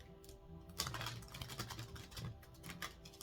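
Tarot cards being shuffled up close, a quick run of papery flicks and riffles with a brief pause partway through.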